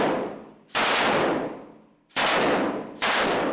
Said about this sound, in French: Les insurgés décident de la détruire à l'aide d'une mitrailleuse lourde.